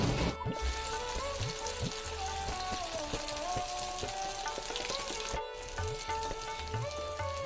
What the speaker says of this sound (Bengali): এক এক করে মুঠাগুলো দিয়ে আমি ভেজে তুলে নেব।